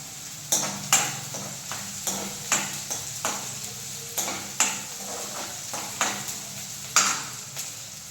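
Onions fry in a pan for an Andhra-style gongura prawn curry, a steady close sizzle broken by regular scraping stirs with a spatula every half second or so, with no talking.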